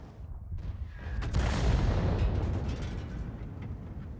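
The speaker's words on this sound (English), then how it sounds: "Artillery's trying to hit us" World of Tanks artillery fire: a heavy, rumbling boom swells in after a moment and rolls on as a long, loud, low blast with a crackling tail, with no talk over it.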